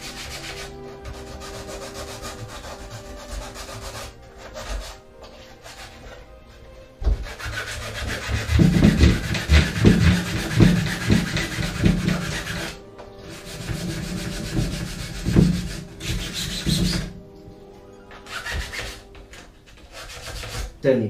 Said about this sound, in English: So with sandpaper we can make it really thin like that and just get it into nice and get into this groove.